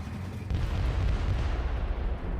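Heavy explosion destroying Black Legion artillery in Warhammer 40K: Inquisitor - Martyr, a deep booming roar that swells and holds as a dense low rumble, fading slightly toward the end.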